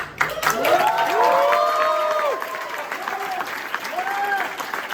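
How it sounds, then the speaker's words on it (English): An audience breaks into sustained applause and cheering, clapping loud at first then easing off, with whoops and voices rising over it. "Loudest applause that you can."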